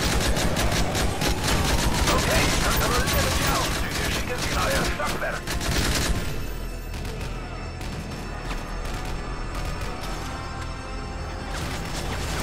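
Sustained heavy machine gun fire in the video game Call of Duty: Modern Warfare 3, loud rapid bursts for the first six seconds, then quieter scattered shots and battle noise while someone talks over it.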